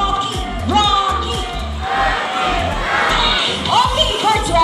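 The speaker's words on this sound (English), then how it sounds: "All the girls will cheer for Sassy" A crowd of girls cheers and shouts at a show in Manila Ocean Park, a loud, excited mass of high voices in rising and falling waves of yelling and chanting.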